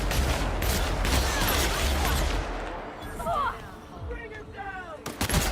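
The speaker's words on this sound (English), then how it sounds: "Open fire!" Gunfire in The Outer Worlds video game, a dense rapid barrage of loud shots up close, thinning into scattered bursts and sharp isolated cracks, with shouting voices mixed in.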